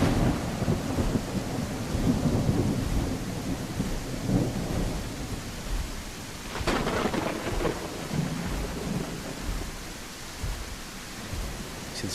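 Steady rain and a long rolling thunderstorm rumble fill a dinosaur video game scene, dense and continuous with a sharper crack of thunder midway.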